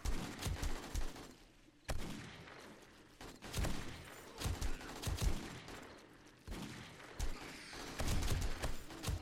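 Desert Eagle pistol fire from 7 Days to Die on a zombie horde night: loud, sharp shots in quick irregular bursts, each with a booming thud, repeating throughout without talking.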